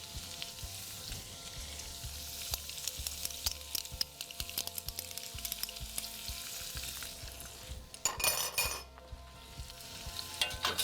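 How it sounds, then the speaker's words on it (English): Fried rice with Chinese sausage and hoisin sauce being stirred in a pan, with continuous close sizzling and frying, repeated scraping and clinking of a utensil against the pan, and a louder burst of sizzle partway through. "Give that a good mix"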